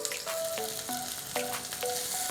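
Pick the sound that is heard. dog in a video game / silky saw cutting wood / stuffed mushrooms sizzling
stuffed mushrooms sizzling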